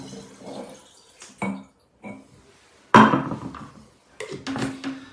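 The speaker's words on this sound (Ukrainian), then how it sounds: "Додаємо спирту воду." Water is poured into alcohol while mixing a Becherovka-style herbal liqueur, giving several short bursts of pouring and splashing close by with quiet gaps, clinks and handling noises between them.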